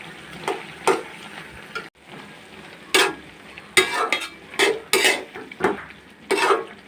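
Small shrimp frying with eggplant in a pan, with intermittent sizzling and sharp scraping clatters of a utensil stirring against the pan, quiet gaps between the bursts.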